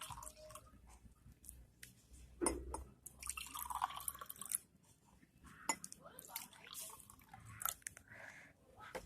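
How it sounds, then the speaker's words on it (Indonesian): Water poured into a row of glasses during a school chemistry practical with cucumbers and salt, giving splashy, dripping pours with faint clinks of glass amid room noise and brief voices. "masukkan ke setiap gelas air secukupnya"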